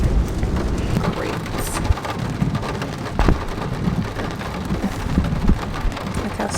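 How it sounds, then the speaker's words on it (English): Rain falling outdoors, a dense steady patter of raindrops on surfaces with occasional louder drips, continuous and fairly close. "We're just gonna hear the raindrops"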